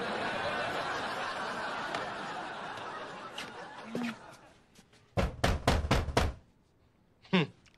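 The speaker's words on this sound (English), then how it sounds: "I know that manly knock anywhere." A firm knock on a door lands as a quick series of sharp raps, loud and close, followed moments later by one more rap, after chatter in a room dies down.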